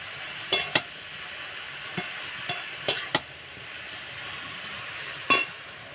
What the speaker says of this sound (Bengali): এবার খুন্তি দিয়ে একটু নাড়াচাড়া করব।